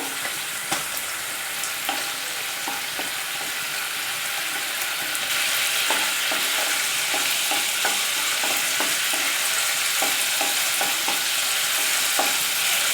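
A steady sizzling hiss from a hot pan of lemon rice tempering with a little water boiling, growing louder midway, with scattered crackles and pops of spices frying.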